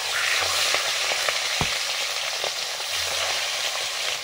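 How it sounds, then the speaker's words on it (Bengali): Fish fry in a hot wok (kadai), a continuous loud sizzle with scattered sharp pops and crackles spitting through it, close up and alone. "কড়াই গরম হয়ে গেছে, মাছগুলো এবার ভেজে নিচ্ছি।"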